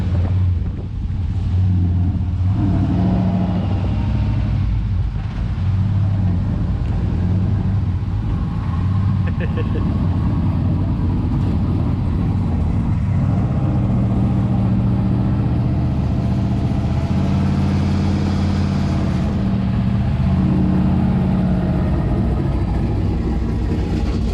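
An '87 Aero Coupe engine runs hard against a two-step launch limiter with the brake held, giving a loud, steady low rumble that fills the whole stretch while people talk over it.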